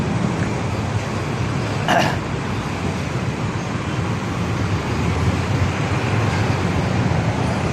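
Road traffic rolls along Mindanao Avenue in a steady, dense roar of passing cars and buses, continuous and fairly close, with a brief sharp noise near the start.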